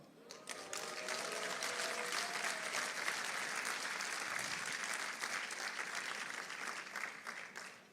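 Convention audience breaking into sustained applause, dense clapping that starts abruptly and holds steady for several seconds before gradually thinning, with faint voices mixed in.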